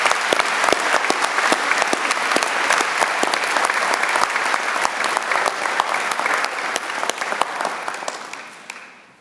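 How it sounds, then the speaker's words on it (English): A graduation audience gives a long, loud round of applause, with dense, crisp clapping and sharp individual claps standing out, fading out at the very end. "can I suggest a huge round of applause for all your friends"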